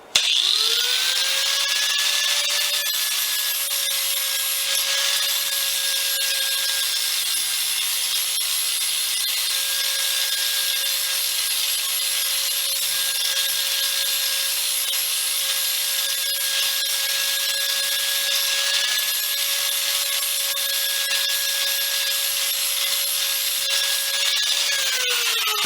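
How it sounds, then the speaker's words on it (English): A drill or grinder buffs scaly hot-rolled steel into a rounded shape, giving a loud, continuous whine that spins up at the start and holds steady, with a gritty abrasive rasp throughout and no voices. "So I did spend a little time buffing it down, sort of rounding it out with this."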